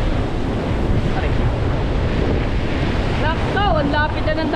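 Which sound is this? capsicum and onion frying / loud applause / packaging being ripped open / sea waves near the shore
sea waves near the shore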